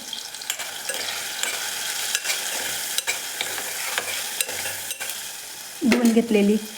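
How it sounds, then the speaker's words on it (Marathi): Turmeric and spice mix are stirred in a hot pan, giving a steady low sizzle with repeated scraping strokes of a spoon, followed by a brief louder clatter near the end. "हळद, मसाला व्यवस्थित परतून घेऊ."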